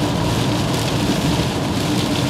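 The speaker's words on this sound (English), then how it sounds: "when it rains, some noise here coming from the side door." Steady rain noise heard from inside a 2013 Honda Accord EX-L, coming through the side door: a continuous, even hiss and patter with a low rumble underneath, constant throughout with no talking.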